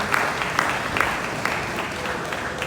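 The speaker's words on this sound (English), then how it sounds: "Please give a round of applause for Sam." Audience applause at an agriculture symposium, moderately loud, with a few sharper individual claps standing out from the clapping crowd.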